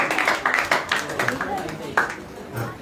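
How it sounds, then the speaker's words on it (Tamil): An audience at a church claps for a children's dance with brisk, uneven clapping from a small group, close by and steady throughout, while a voice urges them on over it. "நல்லா கைதட்டுங்கப்பா."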